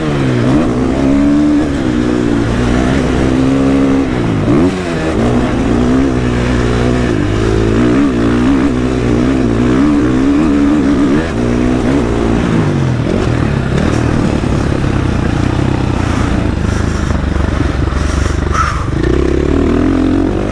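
A 2020 KTM SX-F 450 motocross bike is ridden hard on a track at Ponzano di Fermo, its four-stroke engine continuously revving up and down through gear changes and corners, loud and close throughout.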